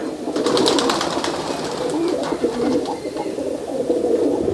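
Several Giribaj pigeons, including a green female with feathered feet, coo steadily at close range, with soft throaty calls overlapping throughout amid some wing and cage movement.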